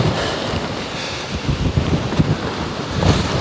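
Strong 40 mph gusts from Storm Bert roar across a campsite where tents are pitched, buffeting the microphone with a loud, continuous rush and low thumping surges.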